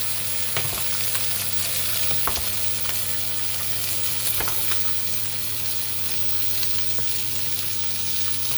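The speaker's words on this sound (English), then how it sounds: "Big pot of pasta, pretty full. You need to mix it up." A big, nearly full pot of pasta is stirred over steady sizzling, with occasional soft scrapes and knocks of the spoon against the pot over a constant frying hiss; no one speaks.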